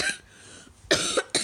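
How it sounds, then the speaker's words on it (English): A person in bed coughing: a short cough, a pause, then two more quick coughs close to the microphone, with no talk. "I've got a bit of a cough."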